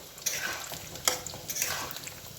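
Paneer pieces fry in a pan with a soft, continuous sizzle, while several sharp clinks and scrapes of a utensil being stirred rise over it at irregular intervals.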